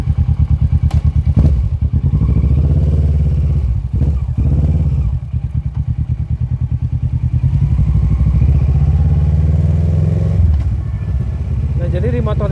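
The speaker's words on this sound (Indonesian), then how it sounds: "sekarang gue mau sedikit coba lagi ya motor ini, kita bahas handlingnya kayak gimana sih" A 2015 Kawasaki Versys 650 motorcycle is ridden on the road, its engine droning and pulsing up close with shifts and surges, together with clattering thumps and wind rumble, while a rider talks over it.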